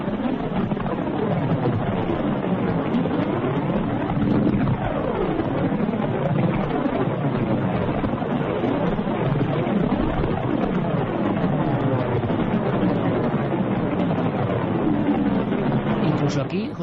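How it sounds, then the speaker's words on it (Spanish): Sonified space recording of Saturn's rings, a dense continuous rumbling wash with sweeping rising and falling tones throughout, steady and loud. "Bueno, anillos de Saturno. Tantas veces los hemos dibujado y esta noche los escuchamos."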